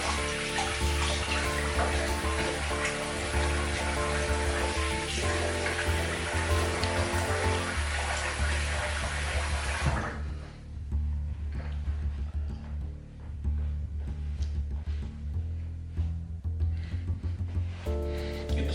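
A razor is rinsed under a running tap, with loud, steady water gushing close by that drops to a quieter trickle and splashing partway through.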